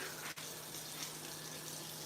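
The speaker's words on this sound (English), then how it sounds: "and just add a little hot water" Hot water runs steadily from a kitchen sink tap, a continuous close hiss and gush of flowing water with one brief dip, no voices.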